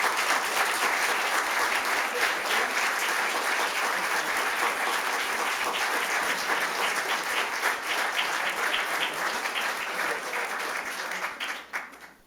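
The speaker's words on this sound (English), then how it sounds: "Big round of applause for Dan." Sustained applause from an awards ceremony crowd honoring the fire department's Firefighter of the Year, thick continuous clapping at full strength before tapering off near the end.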